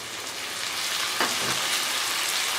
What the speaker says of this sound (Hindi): अब हमने इसमें टमाटर को अच्छे से पका लेना है, अच्छे से फ्राई करना है